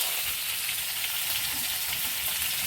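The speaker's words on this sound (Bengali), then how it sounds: "পোনা মাছ ভাজা হচ্ছে" Rohu fish fries in oil with a dense, even crackling sizzle that stays close and constant throughout, with no talk.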